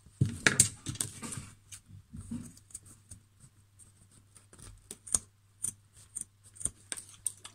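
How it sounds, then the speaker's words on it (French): Scissors snip through fabric for a sewn pouch, a burst of close cuts at the start followed by sparse, light clicks and snips against a low steady hum. "On va pareil couper parce que ça s'effiloche un petit peu"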